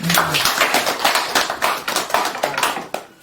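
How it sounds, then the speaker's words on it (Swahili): An audience claps steadily, a dense, fairly close run of many hands that holds for a few seconds and tapers off at the end. "hili hapa tumpiga makofi"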